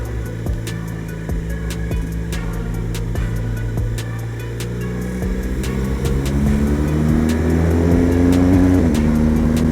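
A BMW R1200 GS motorcycle is ridden along a road, its engine droning steadily and then rising in pitch as it accelerates over several seconds, with constant wind rush.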